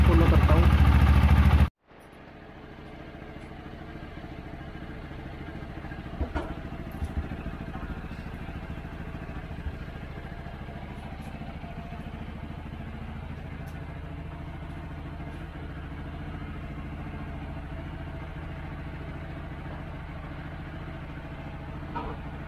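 A TVS Apache RTR 160 4V motorcycle with a petrol leak runs close by, its engine idling in a steady, even drone after a brief loud burst at the start.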